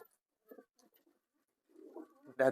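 Pet pigeons coo in soft, low, brief bursts, a few faint ones early and then a fuller, louder run of cooing toward the end, with quiet gaps between.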